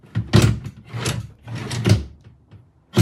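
A drawer on a white Hodedah HIK72 microwave cart, wobbly and crooked, is worked open and shut in several loud, close scrapes and knocks, with a short pause before a final sharp bump.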